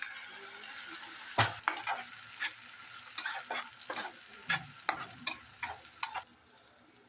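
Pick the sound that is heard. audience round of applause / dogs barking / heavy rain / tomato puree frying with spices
tomato puree frying with spices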